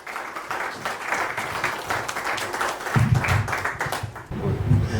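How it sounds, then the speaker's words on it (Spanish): Audience applause at a Spanish-language music rights talk, steady mixed clapping filling the room for several seconds, swelling louder toward the end. "Un aplauso para él."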